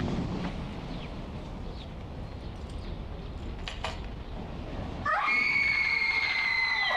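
A woman's scream in a scene from the 1975 film One Flew Over the Cuckoo's Nest rises out of a noisy, clattering background, piercing and sustained near the end.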